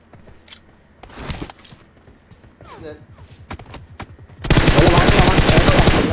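Gunfire in PUBG Mobile: scattered single shots and short bursts with footsteps, then sustained rapid automatic fire dominating the final seconds, loud and close, while players talk over it.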